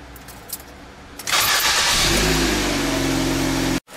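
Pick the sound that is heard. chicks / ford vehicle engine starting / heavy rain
ford vehicle engine starting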